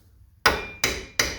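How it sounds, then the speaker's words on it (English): Three sharp metallic hammer taps on an axle nut of a Ford F-150 (2009–2014), evenly spaced and close by, each ringing briefly before the next strike. "I'm going to put the nut on there and just give it a couple small taps"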